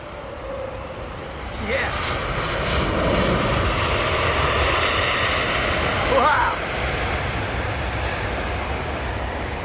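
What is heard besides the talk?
Boeing 767 jet engines starting up at Heathrow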